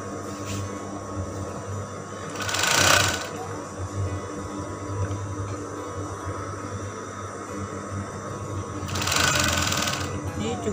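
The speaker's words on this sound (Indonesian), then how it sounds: "kemudian bagian kain furingnya atau kain polosnya yang kita jahit" Sewing machine stitching the plain lining fabric of a broderie dress, a continuous mechanical whir with two louder bursts of faster stitching, close and clear.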